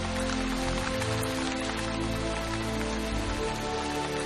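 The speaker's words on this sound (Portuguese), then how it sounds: "Chuva caindo nas rochas quentes." Steady, dense rain patters and hisses on hot rocks, loud and continuous with no voices.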